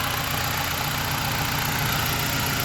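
A BMW engine idles after its Valvetronic unit has been replaced, a steady, close, loud low rumble with an even pulsing rhythm and no voices.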